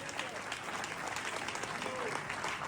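Wedding guests applaud at a ceremony, a dense sustained burst of clapping from a crowd with some voices mixed in, steady throughout.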